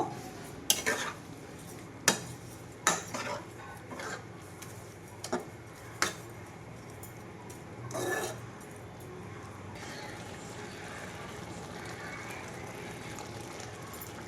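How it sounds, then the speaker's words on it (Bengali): Papaya and sugar being mixed in a pan for chutney, a series of sharp spoon-on-pan clacks and scrapes in the first half, then a quieter steady hiss, no talking. "পেঁপে আর চিনি আমি খুব ভালোভাবে মিশিয়ে নেব"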